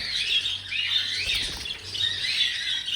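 Black-headed pet birds squawk and flap their wings in a cage, a dense continuous chatter of shrill calls with soft fluttering bursts, close and fairly loud, with no voices.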